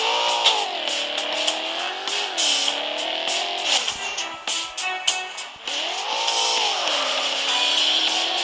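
Car engine in the Mad Out 2 video game revs continuously with rising and falling pitch sweeps, loud and steady throughout, with brief tire-squeal-like bursts in the middle and no talking.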